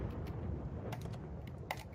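A computer keyboard clatters with a few quick keystrokes over a low background rumble. The taps are faint and irregular.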